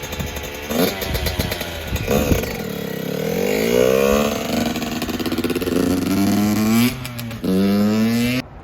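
A Yamaha YZ85 two-stroke dirt bike fitted with a flywheel weight revs and rides close by, its engine rising and falling through repeated throttle pulls, loud and continuous.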